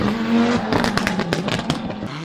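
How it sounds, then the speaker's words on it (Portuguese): A Subaru rally car's anti-lag system fires through the exhaust, a rapid irregular string of sharp bangs and pops cracking over a rough, loud engine drone, close and aggressive. "Esse é o som do combustível sendo queimado propositalmente no escapamento para garantir a pressão do turbo o tempo todo"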